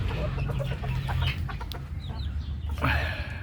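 Backyard chickens, including a Rhode Island Red and a US Silky, cluck in a close, steady stream of low murmurs, with a louder squawk near the end and no one talking.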